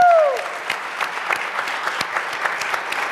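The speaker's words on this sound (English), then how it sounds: "everyone give her a round of applause to get her excited" Audience at a juvenile justice panel discussion applauding to welcome a speaker, steady moderate clapping with distinct individual claps showing through, after a brief electronic tone at the start.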